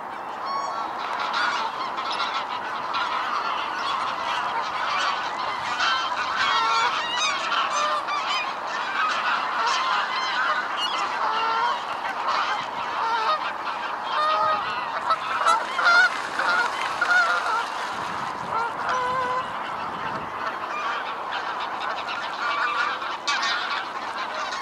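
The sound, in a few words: barnacle goose honking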